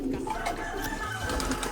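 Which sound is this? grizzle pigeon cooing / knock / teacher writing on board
grizzle pigeon cooing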